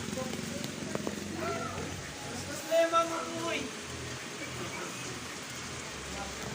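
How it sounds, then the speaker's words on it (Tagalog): Steady rain hissing near Mount Banahaw, with a voice speaking faintly over it early on and a couple of brief louder knocks in the middle. "Ay, naulan na po."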